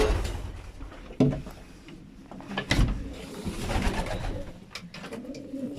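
Pigeons in a loft coo softly and intermittently amid general rustling and a few bumps and knocks, with one low cooing bird fairly near among others.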